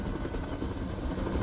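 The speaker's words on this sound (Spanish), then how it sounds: "¡Dile a ese helicóptero que se vaya de aquí!" A helicopter hovers close by in the video game Detroit: Become Human, its steady rotor chop and engine drone loud and unbroken, with no voices.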